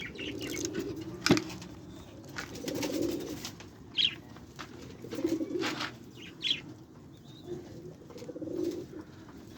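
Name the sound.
pet Australian budgerigars and lovebirds in a cage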